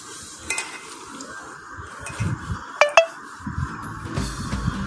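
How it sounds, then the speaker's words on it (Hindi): Bitter gourd mashed with turmeric, vegetable masala and chili powder in a pan: a spoon scrapes and clinks against the metal in irregular strokes under a soft sizzle, with two sharper clinks near the middle. "अच्छी तरह से इसे मैश कर लेते हैं"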